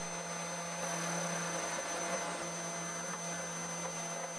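A hobby CNC machine driven by low-powered stepper motors carves a lens with a 1.5 mm tool, making a steady continuous whine with a strong constant hum and high tones, unchanging throughout.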